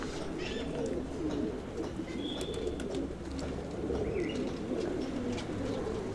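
Pigeons coo softly and repeatedly inside a large breeding loft, low throaty calls overlapping with faint chirps and a dull background hum.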